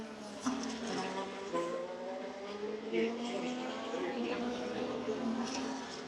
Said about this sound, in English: When the cars fly by, it's loud.